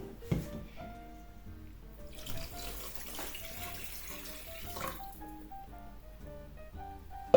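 Water runs from a tap into a large pot of sugar and vanilla sugar, a soft, steady trickle with faint clinks and a brief louder splash, low in level throughout.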